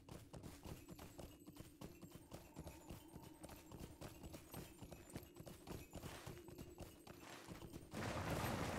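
Horse hoofbeats from riding in Lord of the Rings Online, a quick, steady galloping clip-clop that continues evenly for several seconds before a burst of broadband noise at the end.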